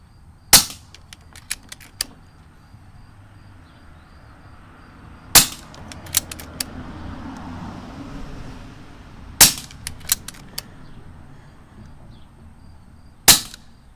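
An Umarex Notos air rifle fires copper pellets, four sharp, loud cracks spaced several seconds apart, each followed by smaller clicks and rattles of the action being worked.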